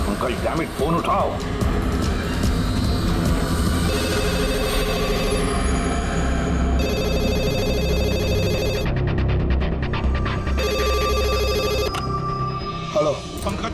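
A telephone rings repeatedly in steady bursts behind a dense, loud layer of music and voices.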